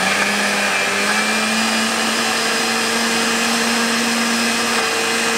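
A kitchen blender motor whirs loud and steady while mixing Oreo cream, running continuously from start to end with a sustained whine and no pauses.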